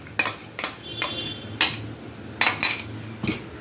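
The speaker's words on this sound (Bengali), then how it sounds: "করে এটাকেও ভালোভাবে নাড়তে হবে" A spoon scraping and clinking against a pot while two pureed tomatoes' worth of tomato paste is stirred in for Mughlai chicken handi, with several sharp metallic knocks spread unevenly over a quiet kitchen background.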